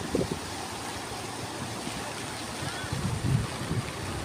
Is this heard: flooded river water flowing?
yes